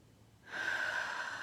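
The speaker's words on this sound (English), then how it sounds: "We're just doing some breathing for a couple of minutes before we even start our card." One slow breath during a morning breathing exercise, drawn in through the nose and let out through the mouth, soft and close, starting after a brief quiet pause and holding steady to the end.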